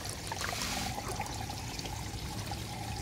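Water pours steadily out of a bucket filter system on a pond holding patin and gourami fish, a continuous close trickle and splash with no talking.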